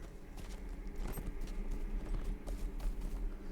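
Horse mount hooves in a video game: faint, rapid clip-clopping footfalls in a steady galloping rhythm beneath a low background hum.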